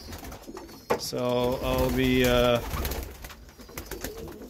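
Young tiger grizzle racing pigeons coo in their loft, with one close, drawn-out throaty coo lasting over a second, set in a busy room. Someone briefly speaks nearby.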